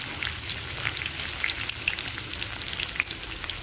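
Chopped ginger and garlic frying in hot oil with mustard seeds for a sun-dried tomato pickle, a steady close sizzle with scattered bright pops and crackles throughout, no voices.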